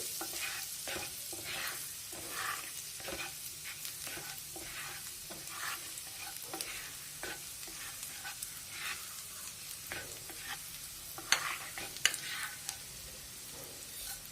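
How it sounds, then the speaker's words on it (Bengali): Minced garlic fries in butter in a pan for butter garlic noodles, a soft steady sizzle broken by repeated scraping stirs of a spatula, faint and close with no voices. "বাটারের মধ্যে ভেজে নিতে হবে এইভাবে।"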